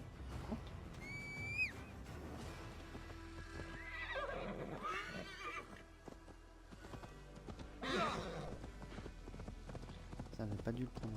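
Horse hooves clip-clop in the video game Assassin's Creed Valhalla, a steady run of hoofbeats with repeated neighs and snorts, under intermittent talk and game sounds.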